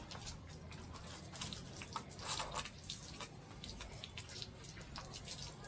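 Water running and dripping from a newly connected pipe, a steady, faint, hissing trickle with soft, irregular splashes throughout and no talking.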